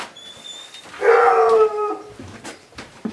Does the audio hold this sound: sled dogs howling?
yes